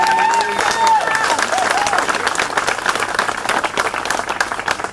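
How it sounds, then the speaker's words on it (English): A crowd at an outdoor street dedication ceremony claps and applauds, dense at first and thinning slightly toward the end, with faint cheering and a few brief tonal sounds early on. "Give her another hand clap"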